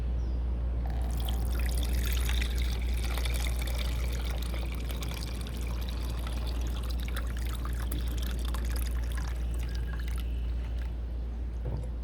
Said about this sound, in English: We're just going to filter this water out.